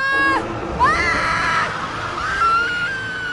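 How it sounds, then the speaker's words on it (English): Screams in the Jurassic World video game, a few shrill, wavering high-pitched cries rising and falling in quick succession, loud and close, with no talk over them. "Follow the screams."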